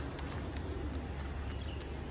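Pakistani highflyer pigeons coo and call steadily over a dense, continuous background of flock noise, with faint brief chirps scattered throughout and no talking.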